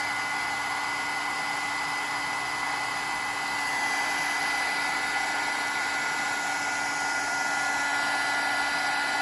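A heat embossing tool blows hot air over embossing powder during a craft project, making a steady, close whirring hiss that holds unbroken for about nine seconds with no talk.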